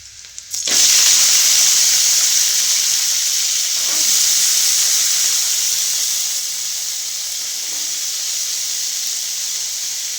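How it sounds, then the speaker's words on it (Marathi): Sprouted chickpeas (harbhara) roast with salt and garlic in a pan, giving a loud, bright sizzle that starts abruptly, then hisses on steadily and eases slightly toward the end. "आपल्याला करायचं ते हरभरं मिठातलं मस्त असं भाजत थोडस."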